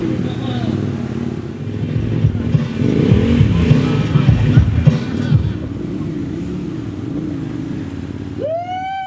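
KTM 1190R adventure motorcycles ride off-road in Indonesia, a continuous loud engine drone with shifting revs under a crowd of voices talking, and a rising whine sweeping up near the end.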